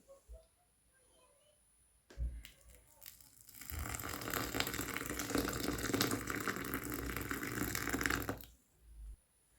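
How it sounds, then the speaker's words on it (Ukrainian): Boiling water pours steadily over millet for several seconds with a hissing, splashing rush, preceded and followed by quiet clinks of a pot or kettle. "Спочатку пшоно заливаю окропом"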